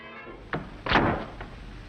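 A secret passage door in a 1940s film serial opens with two soft thuds followed by a louder sliding thump and a faint knock, heard close with no talking.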